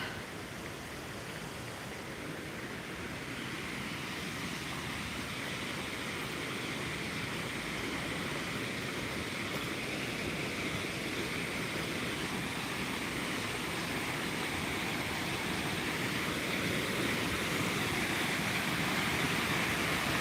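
Loud waterfall on Vancouver Island, a constant broadband roar of rushing water that swells slightly as it draws nearer, with no voices over it.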